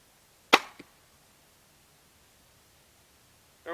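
A single sharp shot from a Barnett Ghost 400 crossbow snaps out with a quick thwack and a brief rattling echo, then near silence in a quiet, chilly winter outdoor setting.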